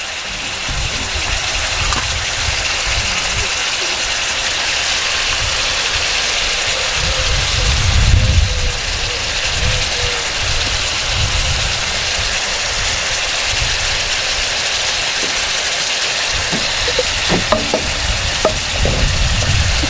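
Shredded cabbage fries in hot oil with a steady loud sizzle and crackle, stirring noises and occasional clinks breaking in as the pan keeps hissing.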